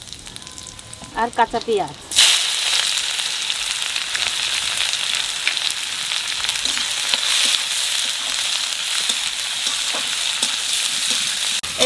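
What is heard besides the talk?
cumin, bay leaf, whole spices and onion frying in oil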